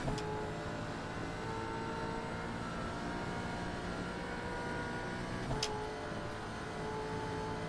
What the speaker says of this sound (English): How magnificent does that car sound?